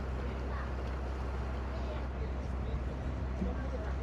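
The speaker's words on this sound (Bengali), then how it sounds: "এই যে পাশাপাশি দুটো বোট।" Two boats cruise side by side on Sundarbans water, a steady, loud low engine drone with wash and wind noise running throughout.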